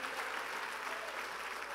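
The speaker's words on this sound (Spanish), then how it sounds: "Y hago un aplauso a nuestro Dios" Steady congregational applause at an evangelical preaching service in Rancho de Tejas, a dense even patter of clapping from many hands with no talk over it.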